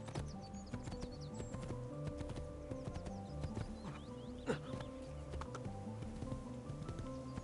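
Rhythmic hoofbeats of a horse galloping in the video game Assassin's Creed II, a steady clip-clop running throughout at moderate level, with faint bird chirps and other game ambience around it.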